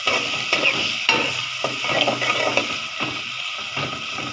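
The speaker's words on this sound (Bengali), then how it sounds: "পেঁয়াজ আর চিংড়ি মাছ একসাথে আমি ভাজতেছি।" Onions and prawns fry together in a pan with a bright, close sizzle, punctuated by regular clinks and scrapes as a spatula turns them over and over.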